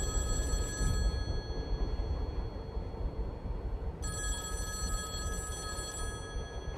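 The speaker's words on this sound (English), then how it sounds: "I need a little icon to tell me the phone's ringing" A telephone in the video game Secret Doctrine rings in two bursts, each a few seconds long, over a steady low rumble of background noise.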